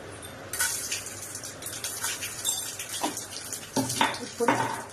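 Tempering spices sizzle in hot oil in a pot on a stove, with steady frying hiss under repeated clinks and scrapes of a utensil against the pot.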